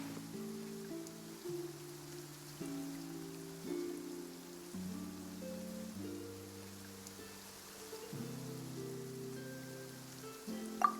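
Soft rain falling in the video game Genshin Impact, a faint steady patter under sustained musical tones, with no voices.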